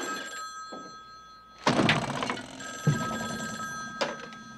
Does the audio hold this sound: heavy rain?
no